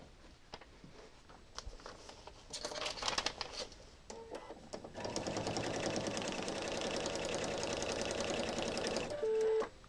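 Sewing machine stitching a seam on a quilt block, starting with a few scattered handling rustles before settling into a steady, continuous whirring run that holds to the end.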